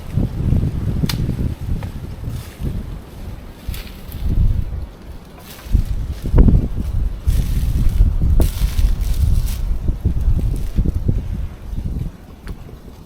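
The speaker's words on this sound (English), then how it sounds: "The wind blowing too, wow." Wind gusts through Appalachian woods outdoors, producing a steady rumbling rush with buffeting swells that rise and fall throughout.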